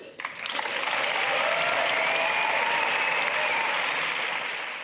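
Audience applause at a cross-party gathering, swelling quickly into full, steady clapping and holding at a strong level for several seconds before easing slightly.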